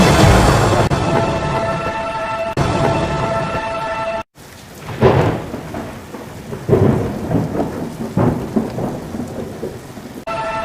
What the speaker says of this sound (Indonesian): Hujan turun sangat deras, sampai air menutupi ladang-ladang.